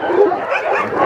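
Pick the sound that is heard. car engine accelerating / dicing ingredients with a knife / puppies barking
puppies barking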